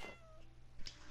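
A single short meow from a cat in the video game Minecraft, heard close and clear over quiet low background game ambience, with a brief sharper sound near the end.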